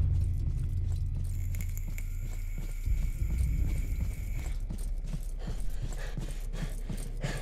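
Footstep sound effects layered into an edit, a run of steady hard-surface steps with a clip-clop quality, entering over a low rumble partway through and continuing to the end.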